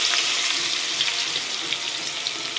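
Chopped onion hits hot oil for a rohu fish kalia, giving a loud, dense, steady hiss of frying that stays close and continuous throughout.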